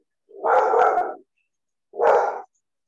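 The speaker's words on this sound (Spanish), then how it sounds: "el perrito está ladrando" A small dog barks twice at close range, a longer doubled bark followed by a single short one after a pause, loud and clear with no talk over it.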